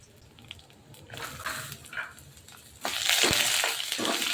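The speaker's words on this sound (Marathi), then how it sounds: "तर हा मसाला चांगला फ्राय झाला आहे" Masala of red chillies, garlic, coriander seeds, black pepper, cloves, bay leaf, ginger and coconut frying in a pan, a soft crackle that swells into a loud steady sizzle with scraping stirs partway through.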